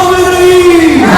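A street crowd celebrating in Iran with national flags, a sustained chant from many voices with one drawn-out yelled tone that slides downward at the end, loud and close.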